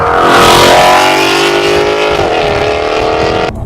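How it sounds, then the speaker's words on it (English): A 2015 Ford Mustang 5.0 V8 with a Corsa Xtreme exhaust roars and revs steadily, its exhaust droning with a rising then falling pitch before cutting off abruptly near the end. "It is really loud."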